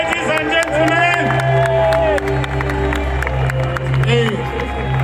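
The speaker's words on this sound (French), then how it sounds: "je voudrais une autre salve d'applaudissements pour eux. Let's clap for them again, ladies and gentlemen." An audience at a public gathering on Place de la République in Paris applauds and cheers steadily, with loud crowd noise and voices, shouts and whoops rising above the clapping.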